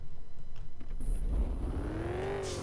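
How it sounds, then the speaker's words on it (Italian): A vehicle engine in the survival driving game Drive 4 Survival starts up, then revs with a rising whine, loud and close, over a low rumbling idle. "Io posso con F accendere il motore."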